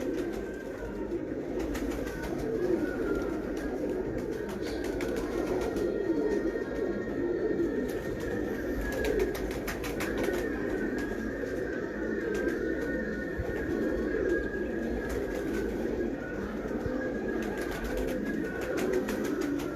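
Many Sialkoti pigeons coo continuously in a dense, low, burbling chorus that is steady throughout, close by and unbroken by talk.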